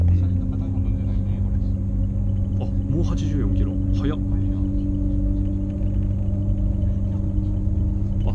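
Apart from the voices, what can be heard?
Shanghai maglev train running at speed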